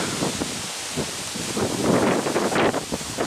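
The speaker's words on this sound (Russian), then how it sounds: "и ветер." Steady outdoor wind buffeting the microphone, a continuous rushing roar with gusts swelling louder toward the end.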